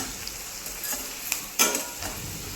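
Onion fries in hot oil in a pan for a paneer pulao, a soft continuous sizzle broken by a few sharp scrapes and clinks of a spoon stirring against the pan.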